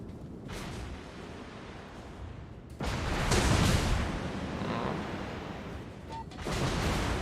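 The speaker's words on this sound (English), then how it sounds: "Yep, and that's Battleship AP." Battleship armor-piercing shells slam into a destroyer in World of Warships, heavy booming impacts and rumbling blasts that swell loudly in the middle and again near the end, under faint background noise.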